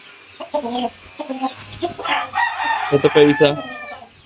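A rooster shown at a cockfighting derby clucks and crows in several short bursts close by, with someone speaking briefly between the calls.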